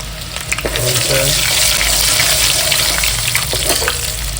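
Onion, curry leaves and bay leaf hit hot tempering oil for a Malvani-style mutton dish, giving a steady broadband sizzle and crackle that holds loud and close throughout, with a few brief clinks.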